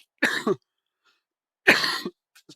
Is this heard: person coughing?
yes